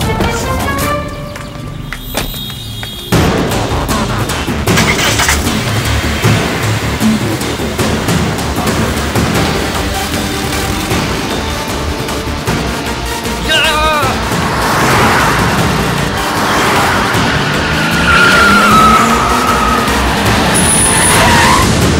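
A car in a Tamil feature film drives off and later returns, heard as a continuous loud road-vehicle rumble with tyre and engine noise layered over dense film soundtrack texture throughout.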